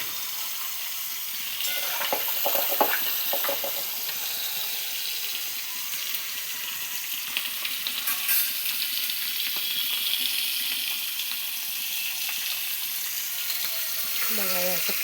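Food fries in a pan on a low gas flame with a steady broad sizzle, close and continuous, with a few light clinks and scrapes and a voice briefly talking over it.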